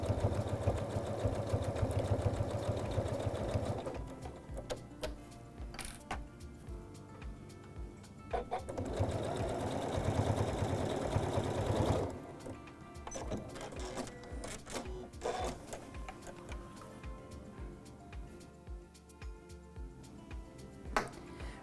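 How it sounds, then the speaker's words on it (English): A sewing machine fitted with a bi-level foot top-stitches along the edge of webbing, a close, steady whirring hum in several runs that stop and restart, with light clicks and clacks between them. "So as I start sewing, I know that my top stitching will be even and precise and ready to go."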